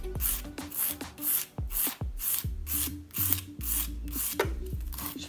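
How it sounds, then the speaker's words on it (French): A coarse-grit nail file rasps back and forth along the sides of a gel nail, a close, steady series of about ten gritty strokes in quick rhythm with no talking. "je vais donc d'abord limer les côtés"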